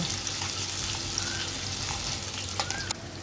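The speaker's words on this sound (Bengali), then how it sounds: "কুচনো পেঁয়াজটা ভালো করে আমি লাল লাল করে এই সময় ভেজে নেব" Chopped onions fry in hot oil, giving a steady soft sizzle with occasional stirring clinks and scrapes, fairly close and without speech.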